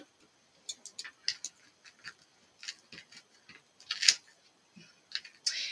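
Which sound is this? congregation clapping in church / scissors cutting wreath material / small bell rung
scissors cutting wreath material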